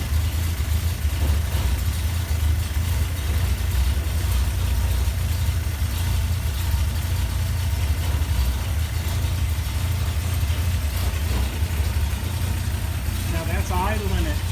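A 1964 Comet 250 engine idling at a steady low rumble, close and continuous, smooth and even throughout, with a voice briefly heard near the end.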